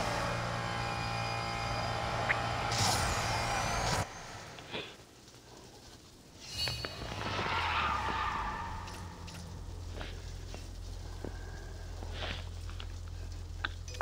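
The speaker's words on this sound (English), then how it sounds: "This thing holds drift pretty well." Car drifting with tire skid in the racing game NFS No Limits: a steady engine drone with a screeching skid, a brief near-silent gap, then the engine revving back up and holding a low hum.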